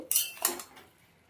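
Chopped onion stirred in a pan with a metal utensil, giving two quick scraping clatters near the start and then fading; close, fairly quiet, with no talk.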